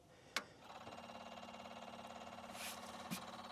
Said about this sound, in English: so we're already beeping